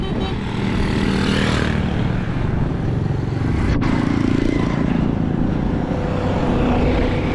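Road traffic streams past someone walking alongside, with cars and motorbikes rumbling and droning close by in a continuous, busy wash of engine noise and no talking.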